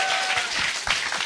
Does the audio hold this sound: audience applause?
yes